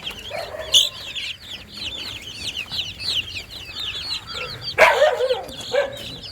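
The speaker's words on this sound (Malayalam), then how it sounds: "ഫസ്റ്റ് ആയിട്ട് നമുക്കൊരു 2 ആഴ്ച പ്രായമായിട്ടുള്ള കോഴിക്കുഞ്ഞുങ്ങളെ കാണാം" A group of two-week-old native chicken chicks peep continuously in rapid, high chirps, close by, with a louder cluster of calls near the end.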